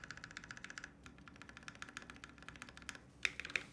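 Typing on a mechanical keyboard in HHKB layout fitted with MX switches, with a slight metallic resonance: steady close-up clacking keystrokes in a quick run, a brief pause, then more presses and two sharper louder strikes near the end.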